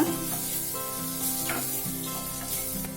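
Onions and ivy gourd sizzling in a pan as they are stir-fried with curry leaves, a steady close hiss of frying with faint scraping of the stirring spoon running throughout.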